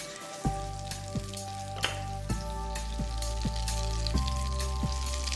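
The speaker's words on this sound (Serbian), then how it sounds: "Poenta je samo da se žalfija malo zapeče i da bude hrskava." About eight whole sage leaves fry in butter in a pan, giving a soft steady sizzle with a few sharp crackling pops spaced through it, close and moderately quiet.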